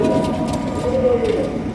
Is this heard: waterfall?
no